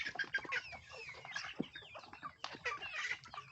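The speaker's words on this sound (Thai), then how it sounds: "มีทั้ง ลูกผสมนะครับ ระหว่างไก่รสแดงอเมริกาแล้วก็ ไก่ไข่พันธุ์ไฮบริดนะครับ" A flock of hybrid laying hens crossed with American Rhode Island Reds, about three to four months old, clucks and chatters in overlapping bursts from close by, with no one speaking.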